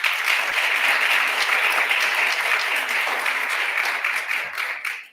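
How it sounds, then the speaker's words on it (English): Audience applause at a Kid Governor inauguration ceremony, steady and dense from start to finish before fading out at the end. "let's have a big round of applause for Makhi right now."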